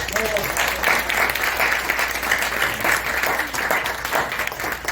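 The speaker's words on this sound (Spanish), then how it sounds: "por favor, un aplauso para" Audience applause fills a book presentation at the FIL Guadalajara book fair, steady dense clapping from a large crowd lasting throughout, loud and continuous with a faint voice underneath.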